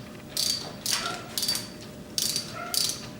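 A ratchet works the top end bolts on a Honda XR650L engine, five short bursts of clicking pawl spaced roughly half a second apart, close and crisp against a quiet background.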